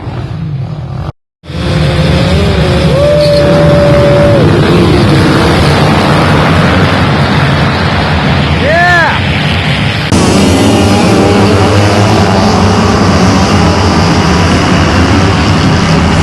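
Motocross motorcycles roar together in a loud, dense engine din at a beach cross race, with individual engines revving up and down as the pack races past.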